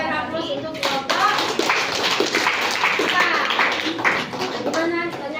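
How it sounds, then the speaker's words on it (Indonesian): A group claps for a man during a classroom teacher-training session, a sustained burst of fairly close hand claps mixed with voices talking over it. "Yang kita berikan aplaus untuk Bapak."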